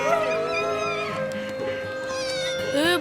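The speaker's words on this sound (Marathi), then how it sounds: "इथे इथे केवढं भारी मांजराचं पिल्लू आहे" A kitten meows in a long, drawn-out cry, rising and falling over a steady background tone, close and fairly loud throughout.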